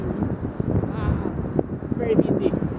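Strong outdoor wind buffeting a microphone in a Budapest square near the Chain Bridge, with gusty low rumble under a voice.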